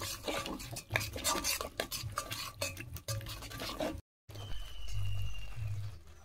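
Spice paste (masala) being stirred and fried in oil in a pan for a potol chingri curry, with steady close scraping and spoon strokes over a continuous low sizzle, briefly broken by a short gap.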